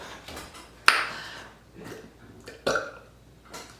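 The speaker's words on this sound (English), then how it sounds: "I need to get a nice big burp, man" Loud burp from a person after chugging Mountain Dew soda, a sharp burst near the start followed by a second shorter belch later, close to the mic with faint background sounds between.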